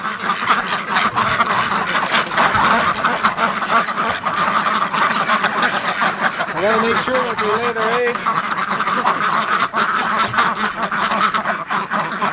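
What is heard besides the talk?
ducks quacking in their pen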